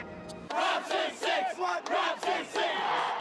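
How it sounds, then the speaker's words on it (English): Toronto Raptors fans at a tailgate party outside the arena erupt in repeated surging cheers and chants, a dense crowd roaring in rhythmic bursts after a brief quieter moment at the start. "the ultimate Raptors tailgate party, standing for hours, cheering their heroes"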